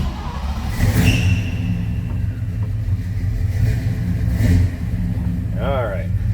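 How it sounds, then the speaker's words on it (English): A 1970 Chevrolet K10 4x4 engine turns over and settles into a steady, close low rumble with a couple of revs, while people talk nearby. "Let's go ahead and fire this up so you can hear it run"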